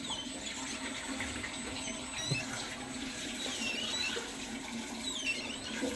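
Water swirling and rinsing around the inside wall of a container, a faint, continuous sloshing wash with small squeaky splashes, heard alone without voices.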